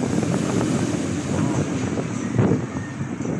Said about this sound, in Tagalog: sa mga oras na to, napakalakas ng hangin